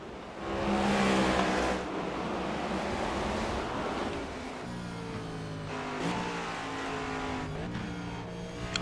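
A NASCAR race car engine, heard onboard at Irwindale, drones and climbs in pitch, with several shifts between third and fourth gear over a rushing wind-like roar.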